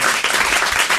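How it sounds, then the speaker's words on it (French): A studio audience applauding radio presenter Nelson Montfort, a dense, loud burst of clapping filling the whole short moment with no gaps. "On applaudit Nelson Montfort."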